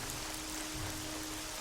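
Rain falls in the video game Jagged Alliance 2 as a soft, continuous hiss of drops on surfaces, fairly faint and even throughout, with no voices over it.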